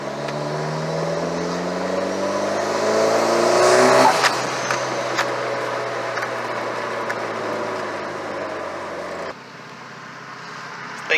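A car with an aftermarket FP Red turbo accelerating hard, engine pitch climbing steadily through a gear with a rising whine, then a sudden drop as the throttle lifts, loud and close from inside the car.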